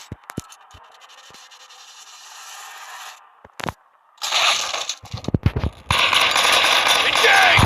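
Explosion in a video game shooter, sudden loud blasts with crackling, scraping debris after a quieter stretch, two big bursts followed by sustained rumbling noise.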